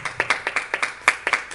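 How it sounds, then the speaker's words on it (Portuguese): Church congregation clapping in a quick, steady rhythm at an evening service, a dozen or so close, distinct claps spread over a short stretch with no voices. "Dá uma soma de palmas para Jesus Cristo nessa noite."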